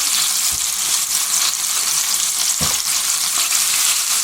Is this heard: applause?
no